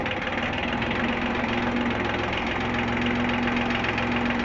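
A tractor engine drives in third gear, a steady loud knocking rumble with a constant low hum running unbroken throughout, close up and with no voices.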